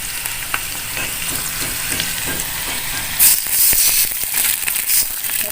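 Chili frying in a hot pan as a little water is poured in, giving a loud steady sizzle and hiss that flares into bursts of steam about halfway through, with faint stirring scrapes.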